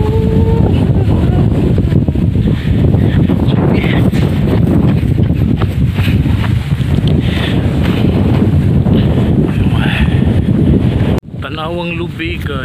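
Loud, roaring wind buffeting the microphone continuously outdoors in the Philippine countryside, a heavy low rumble that drops off abruptly near the end.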